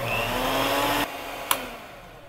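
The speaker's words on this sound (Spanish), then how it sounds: "vamos a batir nuevamente hasta que agarre una consistencia bien firme y cremosa" An electric mixer whirs loudly, beating condensed milk into cold whipped cream, then cuts off after about a second, leaving a quieter hum and a brief sharp clink.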